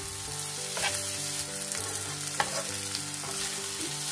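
Chicken fry masala sizzles loudly in a pan while being stirred, the steady frying hiss broken by a few scraping strokes, with no voices.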